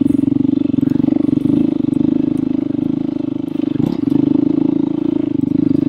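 A KTM 790 enduro motorcycle ridden on a rutted off-road ATV trail, its engine droning loud and steady up close with a fast pulsing beat and a few brief clatters from the terrain.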